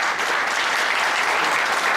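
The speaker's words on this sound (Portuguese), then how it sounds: "Uma salva de palmas para ele." A brief, dense burst of applause from a congress audience at a labor union gathering, many hands clapping steadily and loudly with no voices on top.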